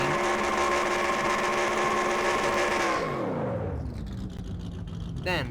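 Race car engine in a racing video game, set in victory lane at Rockingham, droning loudly and steadily, then the revs drop sharply and fall away, with a commentator talking over it.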